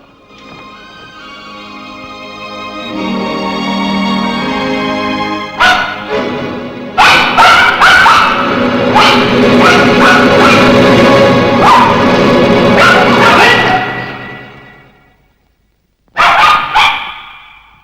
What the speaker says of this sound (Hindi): ये महल के कुत्ते हैं, भौंकते हैं, काटते नहीं।